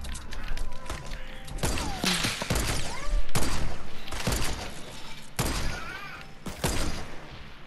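Gunfire in Fortnite crackles in rapid, repeated bursts close up, with thuds and building clatter mixed in, while players talk over the action.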